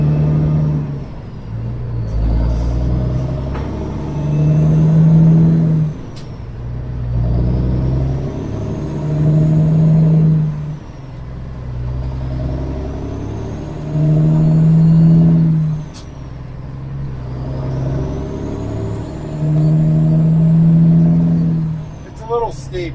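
A truck engine on a steep hill in Missouri climbs through its gears, a deep rumbling drone that rises and drops in repeated shift cycles about every five seconds, with someone talking intermittently over it.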